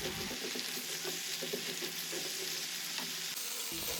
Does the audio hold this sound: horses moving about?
no